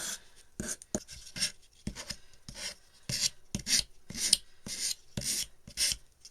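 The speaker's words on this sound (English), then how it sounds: "we're going to take our 120 sand grit sandpaper, and we're just going to come and just kind of, I just want to rough it up a little" Strokes of 120 grit sandpaper roughen the wood of a rustic birdhouse, about a dozen distinct rasping passes in an irregular rhythm, close and clear, with quiet gaps between them.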